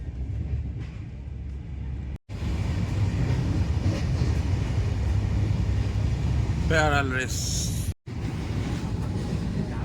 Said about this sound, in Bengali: আমাদের ট্রেন এসে দাঁড়ানো হচ্ছে খড়গপুর জাংশনে